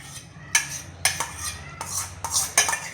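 Metal spoon scraping and clinking in a pan while butter is stirred into a paneer curry, with several sharp stirring strokes in an irregular rhythm, close and fairly loud, with no talking.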